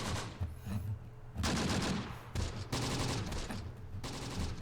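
Sustained machine gun fire in the WWII video game Close Combat: The Bloody First, loud, dense bursts of rapid shots rolling over one another with brief lulls between volleys, no talking.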